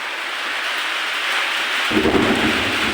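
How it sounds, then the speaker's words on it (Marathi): Heavy rain pours steadily as a broad, constant hiss, with a deep low rumble of thunder rolling in during the last second and growing louder, no voices present. "बघा आमच्या इकडं कसलं गरज आहे दिसतंय का, कसला पाऊस आहे."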